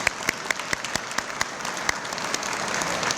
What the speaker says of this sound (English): I'd like to ask you, all of you, to join with me to give them an applause.